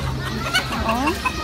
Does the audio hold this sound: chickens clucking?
yes